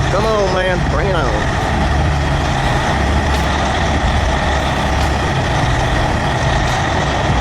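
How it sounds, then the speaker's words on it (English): A Kenworth log truck stuck in deep mud in a ditch, its heavy diesel engine roaring steadily and loud throughout, with a brief squealing whine at the start. "That Kenworth log truck took an unplanned detour into the ditch."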